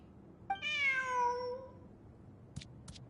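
A cat in the Genshin Impact game gives a single clear, drawn-out meow, followed by two faint clicks in otherwise quiet surroundings.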